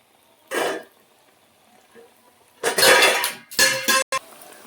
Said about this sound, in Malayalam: എൻ്റെ പാത്രം വീണ സൗണ്ടാണ് കേട്ടോ നിങ്ങൾ കേട്ടത്